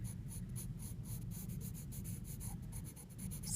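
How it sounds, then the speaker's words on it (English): A harder pencil scratches across paper in continuous, steady sketching strokes, close and fairly quiet, with soft rubbing textures and a low background rumble; no one speaks. "sketching some of these shapes a little bit better"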